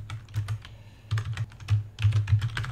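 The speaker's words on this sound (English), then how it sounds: "Let me just type that." Bursts of clicking keystrokes on a computer keyboard while a Python function call is entered, irregular runs of close taps separated by short pauses, alone without talk.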